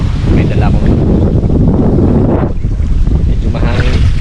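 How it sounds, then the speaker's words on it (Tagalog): Wind roars steadily across the microphone, loud and continuous, with a brief dip midway before gusting again. "Medyo mahangin."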